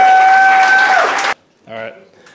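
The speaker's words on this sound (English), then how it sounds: "Let's give them a round of applause" An audience at a hackathon pitch event applauds in a short burst of clapping that cuts off abruptly, followed by a brief voice.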